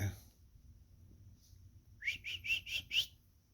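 A person whistles a quick series of about five short, bright, bird-like notes after a near-silent stretch, faint and close, with a brief breathy sound at the start.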